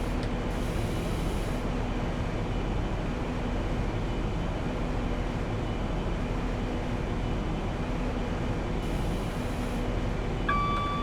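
A train passing through a station in the Train Simulator 2016 game on a western mainline: a continuous, steady rolling rumble with a sustained mechanical drone, fairly close, and a couple of brief higher tones, no voices.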